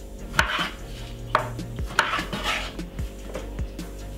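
Sharp knife chops against a cutting board, a few distinct thuds at an uneven pace, close by with a faint wet crunch of fruit.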